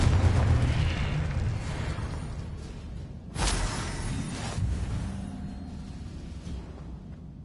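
A Confringo blasting spell in the Hogwarts Legacy video game erupts in a sharp, loud explosive burst midway, following rumbling magical combat noise, then fading into a lingering decaying boom.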